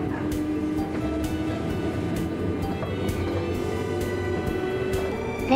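A JNR 201 series electric train on a rapid service from Nara pulls away from Shin-Imamiya station. A steady, dense rumble carries a faint rising motor whine, with soft regular clicks throughout.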